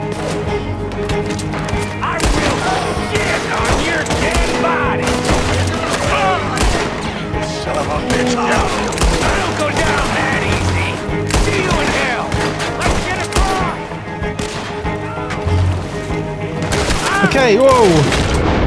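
Western shootout in the video game Red Dead Redemption 2: dense, continuous gunfire with rapid shots, booms and thuds, mixed with game voices and a person talking over the action.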